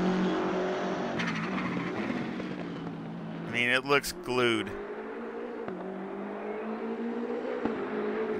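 A BMW M6 GT3 race car engine in Assetto Corsa Competizione at Zandvoort hums steadily beneath someone talking, then briefly revs up and down in a sharp rising and falling whine.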